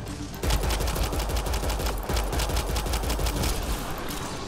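A gun firing in the Mass Effect: Andromeda sci-fi shooter, a loud continuous rapid rattle of shots that starts abruptly and keeps going at close range.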